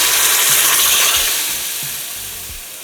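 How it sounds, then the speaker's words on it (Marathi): Tomato gravy goes into a hot spiced tempering and is stirred, giving a loud, steady sizzle close up, with a spoon scraping the pan in a regular rhythm as the hiss slowly fades. "आता आपल्याला ही जी ग्रेव्ही आहे आपण ही करून घेतलेली ती घालतोय त्याच्यात"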